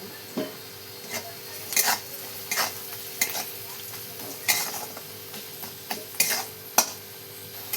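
Spoon stirring turmeric and masala spices in a pan for sev bhaji, giving a series of short scraping and tapping strokes with a faint sizzle between them, close by with no talk.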